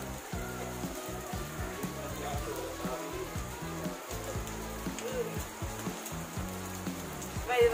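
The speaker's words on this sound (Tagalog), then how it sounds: "Umuulan mga kasword!" Steady rain hisses across the whole clip, with voices talking loudly over it throughout.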